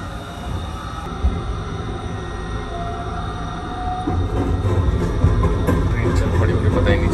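A train runs along the line in Japan, a steady rumble with wheel and rail noise that swells a little louder partway through, with a thin squealing tone and occasional clatter on top.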